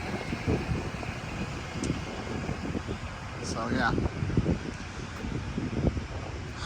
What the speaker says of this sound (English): Sorry about the wind, it's cold and windy.